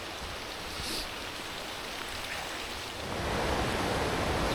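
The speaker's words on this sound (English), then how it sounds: "Two streams coming together. A nice little waterfall there." Two small mountain streams meet at a little waterfall on a rugged Appalachian Trail notch, giving a steady broadband rush of falling water that swells louder toward the end, with no talking.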